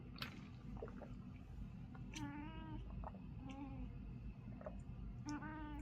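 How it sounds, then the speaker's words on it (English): A cat meows quietly several times, drawn-out calls spaced across a few seconds over a low background hiss, with no voices. "You get a little kitty action."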